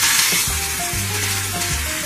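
A plantain patty frying in hot oil gives off a steady, close sizzle with crackling pops, continuous and loud with no talking.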